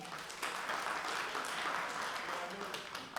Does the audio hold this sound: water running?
no